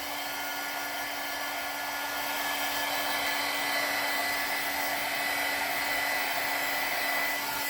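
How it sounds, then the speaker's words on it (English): A heat tool blows steadily to dry watercolor paint, a constant loud whooshing hum with a faint tonal whine that runs unbroken throughout, with no voices. "you're going to dry with your heat tool again"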